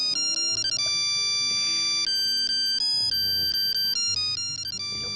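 A mobile phone ringtone rings steadily for several seconds, a bright repeating electronic melody with no voices over it.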